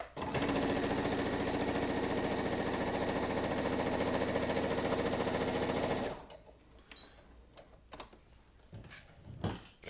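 A Brother ST150HDH heavy duty sewing machine stitches through two layers of leather, running loud and steady with a fast rhythmic needle beat for about six seconds before stopping, followed by faint clicks and handling noises.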